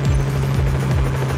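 A helicopter in the video game Just Cause 4 drones steadily with a low, pulsing rotor thump, loud and continuous throughout without any voices.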